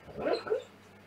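A dog whimpers in its sleep while dreaming in a room: two brief, soft whining yelps in quick succession, fairly faint and close, with no talking.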